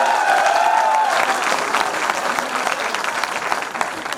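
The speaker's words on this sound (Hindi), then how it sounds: "एक बार जोरदार तालियां मार के दस दो सारे" Audience applauding loudly at a cultural evening stage show put on by trainee officers, dense sustained clapping from a crowd with a brief tonal sound at the start, steady throughout.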